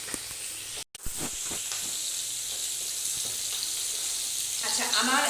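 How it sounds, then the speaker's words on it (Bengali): Bata fish shallow-frying in hot oil in a wok gives a steady, close sizzle and hiss that runs throughout, briefly cut off near the start, with a few soft stirring knocks. "আমি মাছগুলো ভেজে আবারও ফিরে আসছি।"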